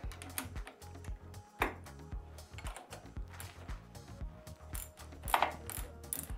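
A wrench loosens bolts on a whole-house reverse osmosis filter housing, making close, crisp ratcheting clicks in irregular bursts alongside small metallic clatter.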